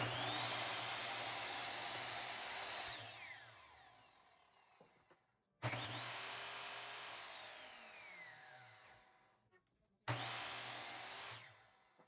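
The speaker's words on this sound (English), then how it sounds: "So we'll take it to the chop saw and see what happens." Three passes of a chop saw cutting birch wood, each a loud whining motor with the blade pitch rising into the cut, then sagging and spinning down into quiet, the last cut shorter.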